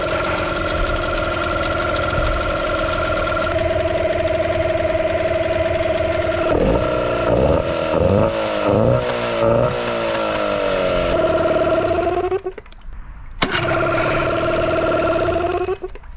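A serviced outboard boat motor runs steadily at a loud idle, rises and falls in pitch as it revs, then cuts out briefly and starts again near the end, with no voices.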